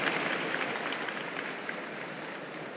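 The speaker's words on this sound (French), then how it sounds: "Je vous laisse l'applaudir." Applause for an actor at a French panel event, soft and fairly distant clapping that stays even across the whole stretch with no voices over it.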